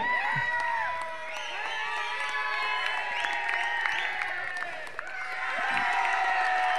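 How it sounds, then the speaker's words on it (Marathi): Spectators at a monsoon football tournament prize ceremony applaud the under-13 winners, with steady clapping mixed with lively cheering and high-pitched shouts from many voices. "त्यांची विजेती ट्रॉफी मी पाहुण्यांना सांगेल द्यायची आहे. जोरदार टाळ्या झाल्या पाहिजेत."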